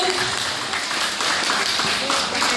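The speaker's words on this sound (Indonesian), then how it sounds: "Tepuk dulu" A talk-show audience gives a round of applause, a broad patter of many hands clapping at once that holds steady, with a voice faintly mixed in.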